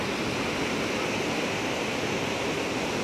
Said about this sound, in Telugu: సో నీళ్ళైతే పొంగి పొర్లుతున్నాయి మొత్తం.